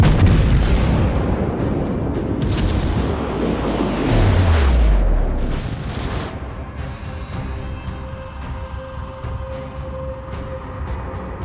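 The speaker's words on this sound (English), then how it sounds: "Get the secondary guns shooting at him." Secondary guns of the battleship USS Massachusetts firing in World of Warships, a dense roar of booming shots that rolls on for several seconds and then fades to a quieter rumble with scattered distant pops.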